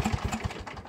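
Rebuilt Craftsman small engine on a Crusher mower running close by, a fast rough pulsing putter over under a second, with no talk.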